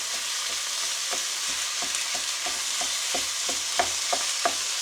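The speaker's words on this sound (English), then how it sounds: "crank the heat up a little bit while you're frying your mince" Minced beef sizzles steadily in a hot pan, a constant hiss broken by a regular series of scraping stirs with a spoon, close and without talk.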